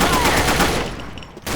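Rapid automatic gunfire rattles in close, continuous bursts during a Combat Arms match, the volume easing toward the end before a final burst.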